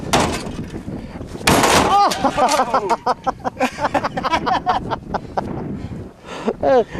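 An object strikes the back window of an older vehicle on a farm with a sharp, loud thud that leaves the glass unbroken, followed by people talking and chuckling nearby.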